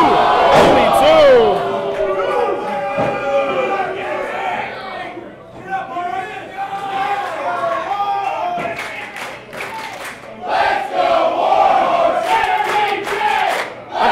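A split crowd at a Bizarro Lucha wrestling show roars, cheers and chants loudly through a title match between two wrestlers, with shouts rising and falling and scattered claps in a dense, continuous wall of voices.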